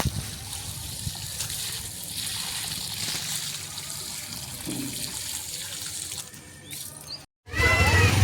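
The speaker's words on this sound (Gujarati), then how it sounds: "અત્યારે જો આ ટાંકીમાં પાણી લઈને પાઈ દઉં." Water runs from a tank through a long line to irrigate trees, making a steady broadband trickling and gushing flow that continues throughout, briefly dropping out near the end before resuming louder.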